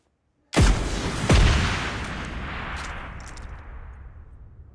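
Two heavy explosions from an RPG and grenade in a battle royale video game, a sharp blast followed less than a second later by a second boom, each trailing off into a long rumbling decay.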